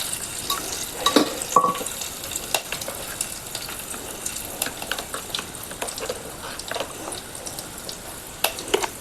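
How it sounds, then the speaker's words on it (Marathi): Mustard seeds spluttering in hot oil for a tempering, with scattered crackling pops and light pan clatter at moderate volume, no voices. "त्या राई पण तडतडलेली आहे आणि आता आपण फोडणीला घालूया."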